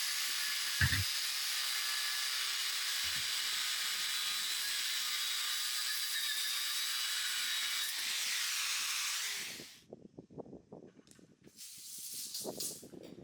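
An angle grinder cuts through 9mm rebar with a loud, steady, high-pitched hissing whine that runs for about ten seconds and then stops. Light clanks and handling noises of the steel follow.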